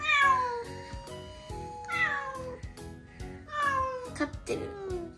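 A newly adopted kitten cries at night, giving repeated loud, drawn-out meows in a rising and falling pattern, heard up close with a few short gaps between calls.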